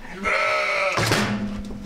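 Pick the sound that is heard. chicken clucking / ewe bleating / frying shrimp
ewe bleating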